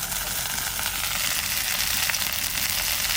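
Bitter leafy greens tipped into a hot pan in a village kitchen make a steady, close, bright sizzle with faint crackling throughout, alone without talk.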